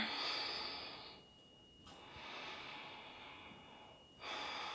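Slow, deep breaths during a bound yoga twist, two long airy exhales and an inhale, close and soft, with brief pauses between them and no talking.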